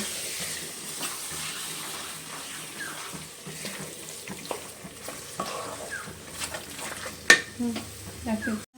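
Mutton rubbed with salt and turmeric going into a hot pan, sizzling and frying steadily throughout, with scraping and stirring noises and a louder clatter near the end.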